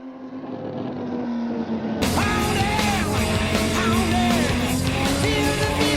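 A road car's engine roars hard down a race track straight, a loud sustained drone with rising pitch sweeps as it gathers speed, surging sharply louder after a quieter start.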